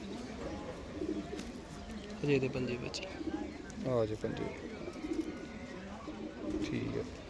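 Pigeons at a pigeon club give a few low, throaty coos spread across the moment, heard softly beneath someone speaking in Punjabi over a faint background hum.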